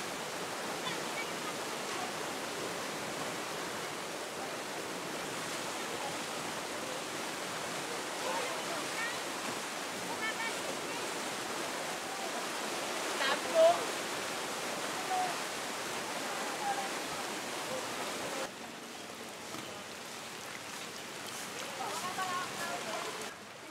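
Floodwater from Storm Yagi in the northern Philippines rushes in a constant broadband roar, steady and enveloping for the whole stretch, with faint voices now and then beneath it.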